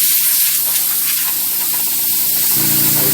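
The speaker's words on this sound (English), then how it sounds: "we're gonna go ahead and get some electronic parts cleaner, and we're just going to spray it on the outside" QD electronic parts cleaner sprays steadily from an aerosol can onto the outside of a 3G Galant VR4 MAF intake part, a continuous close, loud hiss with no talking.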